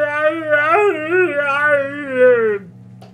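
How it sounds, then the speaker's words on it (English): A dog in the video game Vampyr whimpers and howls in a drawn-out, wavering tone with rising and falling pitch, close and clear, for about two and a half seconds before cutting off. "Oh my god, there's a sewer dog!"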